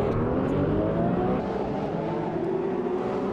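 Race cars in Automobilista 2 surge off the start, a loud dense roar of many engines revving together with rising pitch, continuous and close with no speech.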